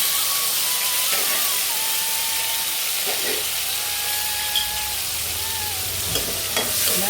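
Tomato and kasuri methi fry in masala for a Bombay-style green peas gravy: a steady close sizzle and hiss with occasional stirring scrapes, continuous throughout.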